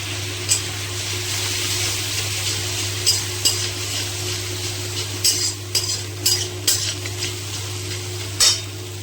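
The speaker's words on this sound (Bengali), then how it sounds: "এরকম এইভাবে মশলাটা কষিয়ে দিতে হবে" Spice masala frying in a pan while being stirred: a constant sizzle over a low hum, broken by repeated sharp scrapes and clinks of the spatula, close up with no voices.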